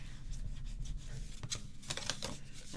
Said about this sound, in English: Give it a burnish